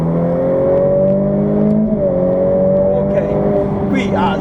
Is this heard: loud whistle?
no